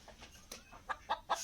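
Chickens on a heated perch in bitter cold give a series of soft, short clucks, a few quick notes spaced through a quiet, slightly noisy background.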